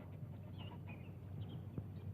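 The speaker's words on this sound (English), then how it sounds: "The geese." Geese call at Beaver Swamp, sending out faint, scattered honks over a low outdoor hum. The calls are distant and intermittent.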